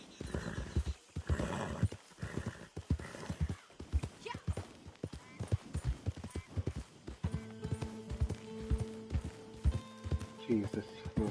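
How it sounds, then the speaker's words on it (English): A horse in the video game Red Dead Online trots with steady close clip-clop hoofbeats and snorts, joined by a whinny, while game music plays underneath. "this horse isn't very good."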